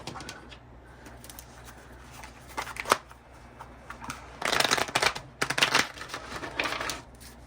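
A tarot card deck being shuffled by hand, with soft riffling and papery flutters rising into two louder bursts of rapid shuffling midway, close and clear against a quiet room.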